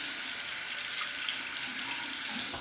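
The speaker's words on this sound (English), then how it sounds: "Cold water on the razor." Cold tap water runs steadily from a faucet over a razor at a sink, a continuous close hiss and splash with no talk.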